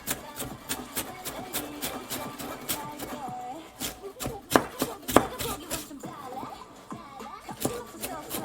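Knife chopping food on a cutting board in a home kitchen, a quick run of crisp taps close by, faster and louder in brief bursts, with faint background sounds.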